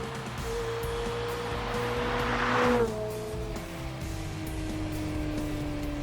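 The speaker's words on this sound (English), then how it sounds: "Here you can already hear" McLaren 720S with a 710 hp V8 revs up, the tone rising over about three seconds to a peak, then dropping to a steady lower drone. The engine sounds close and fairly loud, with no talk.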